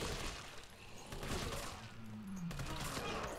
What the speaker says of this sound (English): Yeah, maybe worth using some assault rifle.